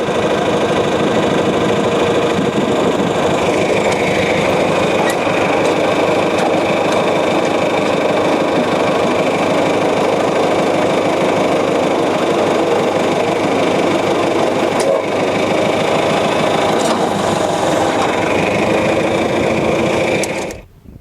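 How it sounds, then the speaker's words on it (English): Battery-powered impact wrench used while building a hopyard, running in one long continuous mechanical hammering burst for about twenty seconds, loud and close, then stopping abruptly at the end. "Using a battery-powered impact wrench really saves a lot of time."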